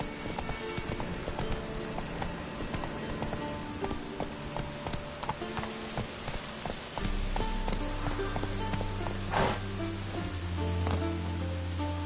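Horse hooves in The Witcher 3 video game, a steady clip-clop gallop of the in-game mount running continuously over a rain-like ambient bed, with music-like tones joining partway through.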